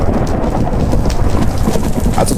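A thunderstorm in Minecraft: loud, dense rain pouring down with deep rolling thunder rumbling underneath, close and continuous with no talk.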